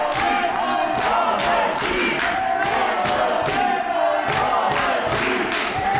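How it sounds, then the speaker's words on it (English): A crowd cheers and roars continuously at a professional wrestling match in Berlin, with rhythmic chant-like swells and scattered thuds throughout, loud and close. "Crowd here in the German capital enjoying every single moment of this one"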